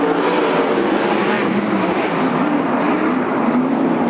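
Sprint cars roar together off the green flag at the start of a heat race at Sunset Speedway Park, a dense, continuous, loud engine wail with no pauses.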